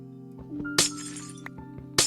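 Glass blocks breaking in Minecraft, two sharp crisp shattering bursts about a second apart, set over a steady background music hum with small clicks in between.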